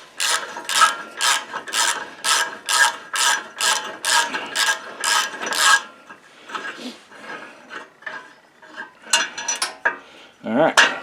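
A socket ratchet works a 3/8 valve cover bolt loose on a Craftsman YS4500 lawn tractor, a steady run of evenly spaced clicks up close, then slower, irregular clicks and handling noises.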